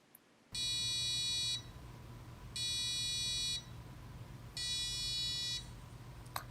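An Arduino-driven buzzer sounds three evenly spaced steady tones, each about a second long with similar pauses between, loud and close over a faint hum.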